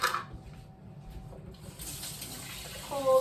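Cold tap water pours into a one-cup measuring cup in a home kitchen, a soft steady rush that swells louder near the end as the flow builds.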